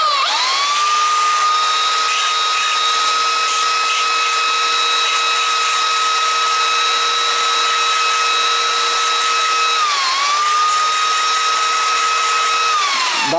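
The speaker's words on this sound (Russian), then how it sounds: "вот если ее подшлифовать на абразивном инструменте" A bent bicycle cable loop is ground on a spinning abrasive tool, producing a loud, steady, high-pitched whine that holds for several seconds, dips briefly in pitch as the load changes, then resumes.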